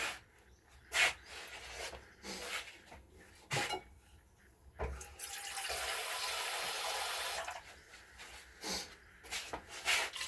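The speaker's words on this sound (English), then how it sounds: "More water, because I'm cooking pasta in it." Tap water runs into a cooking pot being filled for pasta, a steady broadband rush lasting a few seconds, framed by clinks and knocks of kitchen handling before and after.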